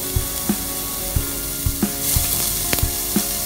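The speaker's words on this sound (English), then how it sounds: "Lagyan na po natin ng oil yung mainit na pan." Oil heats in a hot pan on the stove while cooking sautéed bottle gourd, giving a steady close sizzle with scattered clicks and light clatter of utensils throughout.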